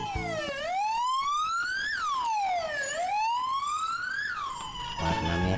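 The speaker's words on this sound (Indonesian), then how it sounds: "Di sini ada mobil ambulans." Ambulance siren wailing loud and close, a smooth rising and falling tone sweeping up and down in long cycles, with no talk over it.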